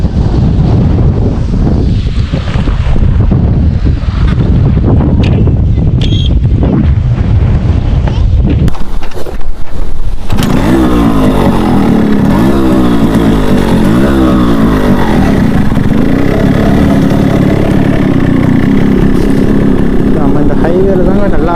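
A Yamaha RX100 motorcycle rides along a highway, its two-stroke engine droning continuously under heavy wind buffeting, loud and close throughout, with the tone changing partway as the bike gets moving.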